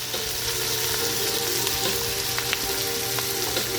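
Hotdogs frying in a pan, a dense continuous sizzle and crackle close up with a few faint pops, no voices over it.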